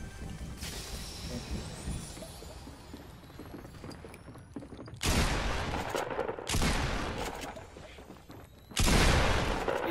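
Bursts of video game gunfire fire an SMG at a wall, coming as dense loud volleys with gaps between them over a murky background.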